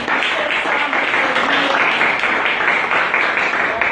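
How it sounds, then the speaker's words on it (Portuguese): Church congregation applauding during a worship service, a steady, dense wash of clapping that fills the whole stretch at close range, with faint voices mixed underneath. "Vamos aplaudir o nosso Deus, irmãos."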